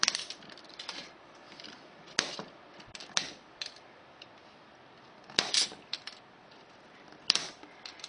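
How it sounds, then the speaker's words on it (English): Old rail nippers snip off pieces of model railway track for a turnout, giving sharp metallic clicks and snaps at irregular intervals, fairly close and moderately quiet with no talking. "I just use an old pair of rail nippers to cut them all off"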